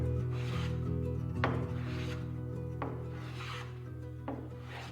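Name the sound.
hand resawing a small piece of guitar wood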